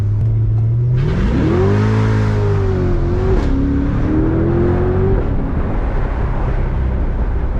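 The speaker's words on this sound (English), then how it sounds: "what I want to show you here is how fast the Corvette gets off the line" A Chevrolet C8 Corvette Z51 convertible launches off the line with launch control, its engine note rising into a loud, close roar that climbs through gears while wind noise builds and carries to the end.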